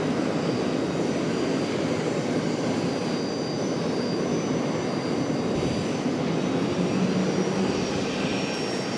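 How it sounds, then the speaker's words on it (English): A Piedmont ERJ 145LR regional jet arriving from Lynchburg at Charlotte airport makes a continuous engine roar with a thin high whine, fairly loud and steady throughout, without any talk. "This one coming in from Lynchburg, Piedmont, ERJ 145LR."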